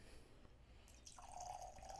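Evan Williams Single Barrel bourbon pouring from a bottle into a glass, a short, faint liquid trickle and splash that rises into a brief gurgle near the end.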